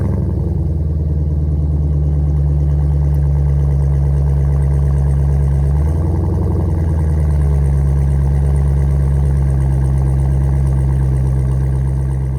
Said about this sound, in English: let's crank up and take a listen to the exhaust note of what is now the hottest Durango on the